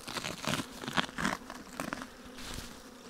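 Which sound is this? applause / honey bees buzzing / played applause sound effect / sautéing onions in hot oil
honey bees buzzing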